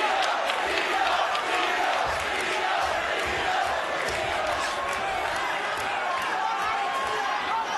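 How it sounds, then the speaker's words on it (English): Spectators at a Teofimo Lopez versus Josh Taylor boxing main event chant and roar as a steady, dense wall of crowd noise throughout, with no single voice standing out. "the crowd chant Teo, Teo"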